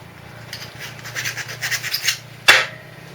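A hand file rasps notches into a metal motorcycle part with a string of short scraping strokes, followed by one sharp louder scrape near the end, close up.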